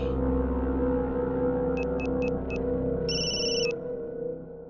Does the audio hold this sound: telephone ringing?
yes